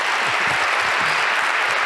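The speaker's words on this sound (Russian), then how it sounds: "это заслуживает горячих аплодисментов зала." A room full of people applauds warmly, with dense, even clapping holding steady at full volume throughout.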